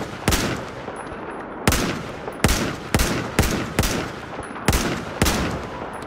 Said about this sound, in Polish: 4 strzały